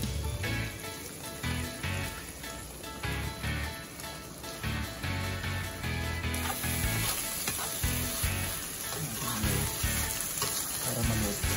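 An egg sizzles and fries on a hot plate of tilapia sisig, a steady crackling hiss with stirring scrapes, close and continuous with no talk.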